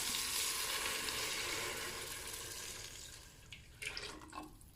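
Prepared broth being poured into a pot of Lao-style bamboo shoot curry, a steady hissing splash of liquid that fades gradually, followed by a few brief clinks and knocks.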